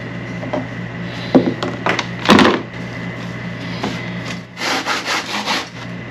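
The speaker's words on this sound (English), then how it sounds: "So just take this off and sand that edge." Sanding the fiberglass edge of a custom console in a 1967 car, heard as a few short scraping strokes and a louder rubbing burst, then a run of rhythmic rasping passes over a steady shop hum.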